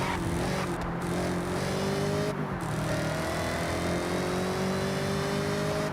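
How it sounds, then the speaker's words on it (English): Forza Horizon race cars rev and accelerate in a continuous loud engine drone, with pitch sweeping upward through gear changes, brief shifts cutting in between. "you're listening to cars vroom in the background"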